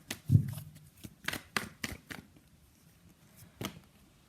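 Tarot cards shuffled and pulled from a deck during a reading, a series of crisp riffles and card slaps spaced irregularly, close and fairly quiet, with no talking.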